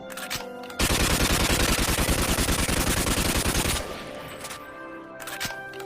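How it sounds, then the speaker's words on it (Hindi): Soldiers in a video game fire their guns into the air: a dense, loud stretch of rapid automatic gunfire lasting about three seconds, fading into quieter scattered shots and background game sounds, with no speech. "चलो सब हवाई फायरिंग करो।"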